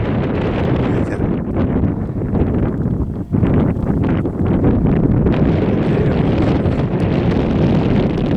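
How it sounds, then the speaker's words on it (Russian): Strong wind buffets the microphone on a river bank at the mouth of the Podkamennaya Tunguska where it meets the Yenisei, a loud continuous roaring rumble with gusty fluctuations and one brief lull. "Ветер."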